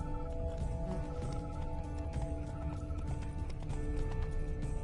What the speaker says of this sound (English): Horses must have gotten spooked.